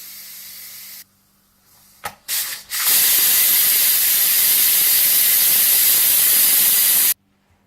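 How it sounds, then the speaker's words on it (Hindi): After a brief quiet and a few clanks, a loud sustained hiss of steam bursts out of a pressure cooker being opened, continuing steadily for several seconds before cutting off. "प्रेशर कुकर को खोल लीजिए"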